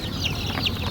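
Young cockerels crowing at a poultry market, two short high crowing calls among clucking and a busy crowded background.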